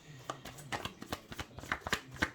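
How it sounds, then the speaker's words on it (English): A deck of tarot cards being shuffled up close, a run of crisp riffling bursts and soft slaps repeating at an irregular pace, quiet and alone with no voices. "It's a good old shuffle."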